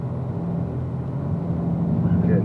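A car engine pulling steadily under throttle, a loud, low, continuous drone that builds slightly toward the end, heard from close by inside the cabin.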